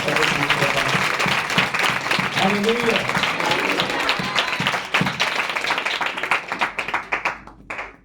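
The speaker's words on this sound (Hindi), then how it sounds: "ताली बजाकर स्वागत करें।" A church congregation claps in welcome, dense steady applause filling the hall and thinning out near the end, with a voice calling out over it.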